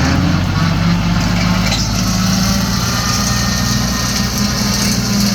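A Kubota L3408 tractor engine drones loudly and continuously while mowing grass, a steady close-up mechanical roar with no pauses.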